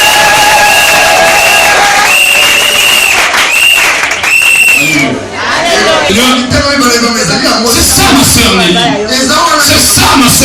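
Loud church congregation cheering, clapping and shouting in acclaim of the Lord during an evangelical service, with sustained applause and raised voices throughout and a brief dip midway.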